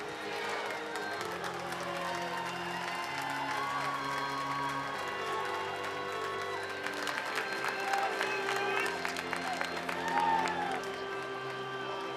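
A college baseball crowd at the Men's College World Series, North Carolina vs. West Virginia, applauds and cheers a departing pitcher in the bottom of the eighth, a sustained distant roar of clapping and whoops under stadium organ music.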